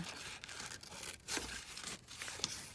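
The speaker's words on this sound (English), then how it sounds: "So actually I think what I'm going to do is just cut him out" Scissors cut a fish picture out of a children's book page. The paper rustles and snips steadily and faintly at close range for a few seconds.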